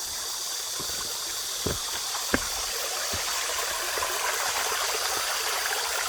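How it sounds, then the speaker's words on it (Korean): A small mountain valley stream about 1.5 to 2 metres wide flowing between a rural house and forest, a steady broadband rushing with a few faint splashes, nearby and unbroken by voices. "보시는 것처럼 이 계곡물이 흐르고 있습니다"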